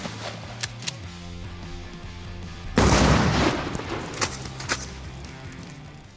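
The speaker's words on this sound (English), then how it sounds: "I love shooting shotguns." A shotgun fires buckshot into a cantaloupe outdoors: one loud, close, booming blast that rings out briefly, with a few faint pops and background noise before and after it.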